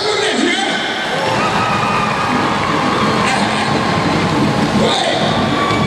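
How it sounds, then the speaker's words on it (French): A crowd at a public gathering applauds and cheers for the elders, a dense, loud, continuous roar of clapping and voices lasting several seconds. "Applaudissez pour les vieux"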